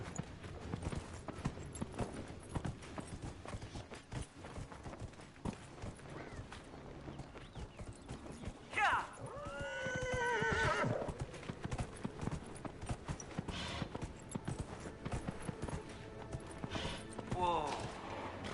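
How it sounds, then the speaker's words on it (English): Horse hooves clip-clopping over a busy Dragon Age video game soundscape, with a horse neighing clearly partway through and again faintly near the end. "Cute horse."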